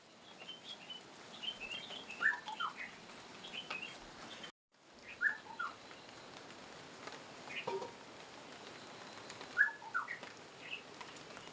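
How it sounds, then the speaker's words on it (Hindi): Various birds call in a village garden in the hills, scattered short chirps and tweets coming at irregular intervals over a quiet outdoor background, some nearer and brighter, others faint and distant. "तरह तरह चिड़िया रोनन हमारे बगीच में। ये सुनो आवाज।"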